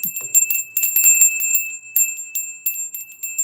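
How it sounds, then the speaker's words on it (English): A small hand bell rung during a livestream tarot reading to mark a super chat, giving a run of bright, repeated metallic rings close to the microphone, with the ringing tones sustained throughout. "That's the super chat bell."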